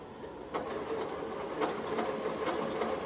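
A sewing machine runs a steady, even whir while stitching around a fabric bucket, with faint clicks from the mechanism and no talking.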